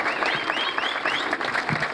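A crowd at a jineteada rodeo event applauds rider Silvano, with a sustained, loud patter of many clapping hands and faint cries and voices mixed in beneath.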